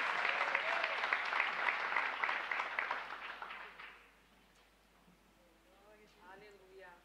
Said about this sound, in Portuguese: Você pode aplaudir ao Senhor pela vida da pastora?